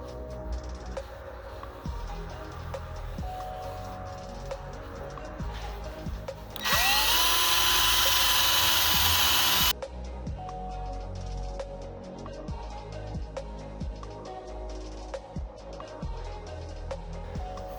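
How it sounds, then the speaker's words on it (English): A power drill fitted with a buffing wheel spins up against an aluminum turbo housing with aluminum polish, giving a loud, steady high whine for about three seconds before stopping abruptly, amid quieter workshop background noise. "I'm going to use Mother's aluminum polish and one of these buffing wheels on the drill"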